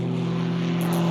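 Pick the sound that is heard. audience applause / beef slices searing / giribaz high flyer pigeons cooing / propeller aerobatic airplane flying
propeller aerobatic airplane flying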